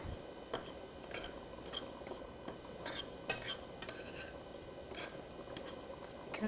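Garlic and gluten-free breadcrumbs being sautéed in a pan with a little oil, heard as soft stirring and scraping with occasional clinks of a utensil against the pan, close and steady with no talking.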